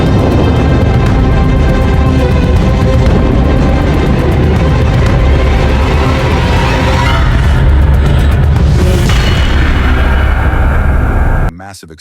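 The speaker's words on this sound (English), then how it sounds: "massive explosion." A massive explosion in an anime-style battle between a hunter and an ant king, a dense, loud, sustained rumbling roar filling the whole stretch before cutting off abruptly near the end, with a voice speaking over it.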